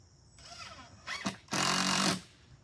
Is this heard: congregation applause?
no